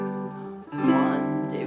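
Two down strums ring out on a baritone ukulele, each a bright chord that sustains. The second, fuller strum arrives just under a second after the first and rings on to the end.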